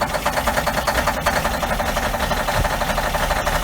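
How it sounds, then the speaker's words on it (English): A Cummins N14 diesel engine idles roughly just after a cold start in freezing weather, a loud, close, steady knocking clatter with no voices. "There's my cold start."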